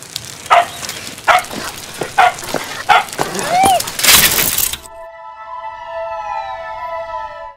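A dog barks in several sharp bursts, loud and close, followed by a harsh crash and then a steady wailing tone.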